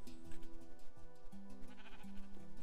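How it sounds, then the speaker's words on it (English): Sheep in the video game Indeed Side Quests bleat over and over in quick, wavering cries, fairly close and unbroken by speech. "Sheep, get out of here."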